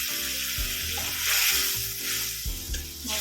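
Spice paste for malai pabda fish goes into a hot pan and sizzles loudly and steadily up close, with short bursts of stirring along the way.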